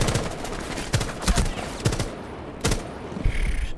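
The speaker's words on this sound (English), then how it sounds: "Only shot you in the face 15 times." Rainbow Six Siege gunfire at Consulate, with several rapid bursts and single loud shots spaced irregularly over a few seconds, punchy and close, with no talking.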